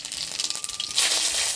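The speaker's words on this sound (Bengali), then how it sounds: "একটুখানি গোটা জিরে আর দুটো তেজপাতা ফোড়নে দিয়ে দেবো।" Whole cumin seeds and bay leaves drop into hot mustard oil in a heated kadai, setting off crackling pops that swell into a loud, steady sizzle.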